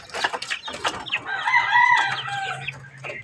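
Three roosters and a hen, close by, cluck in quick bursts before one bird lets out a long, loud crow, followed by more short clucks; no one speaks.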